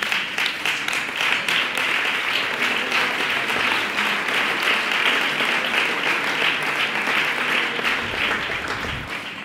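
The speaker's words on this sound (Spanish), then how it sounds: "vamos a terminar con el aplauso" An audience at a forum event applauds, a long, steady roar of many hands clapping at an even, fairly loud level, with a few low thumps near the end.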